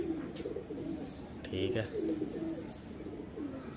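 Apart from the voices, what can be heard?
pigeon cooing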